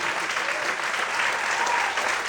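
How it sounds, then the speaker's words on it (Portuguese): A church congregation applauds steadily throughout, a dense wash of many hands clapping at an even level, with faint voices mixed in beneath. "Quantos podem aplaudir e exaltar a Deus por isso?"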